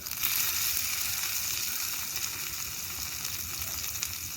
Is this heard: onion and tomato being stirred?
yes